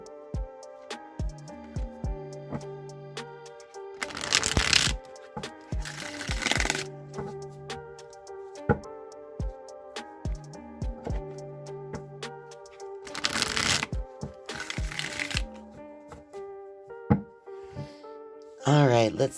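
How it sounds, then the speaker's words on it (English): Bursts of rapid tarot card shuffling of a Rider-Waite deck, riffles and bridges repeated several times, close up, with soft piano-like music playing underneath. "I'm going to go ahead and shuffle the Rider-Waite deck now"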